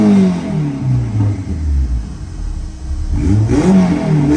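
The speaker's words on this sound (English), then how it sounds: "If you remember in this revving video of my car" A Honda Prelude engine revs loudly and close, its tone swelling and falling, then climbing again in a fresh rev near the end.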